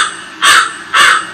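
Two loud, harsh crow-like caws from the 'embarrass' sound effect on a V8 sound card, evenly spaced and close, played alone with no voice.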